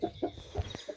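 A Sussex hen in a backyard poultry pen gives soft, close, rhythmic clucks, a few low murmuring calls in quick succession with no voices.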